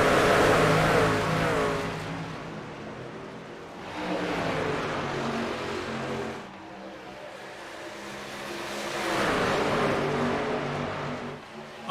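Race cars in a sim racing league accelerate on a restart: several loud engine roars rise in pitch through the gears in repeated waves, close and dominant.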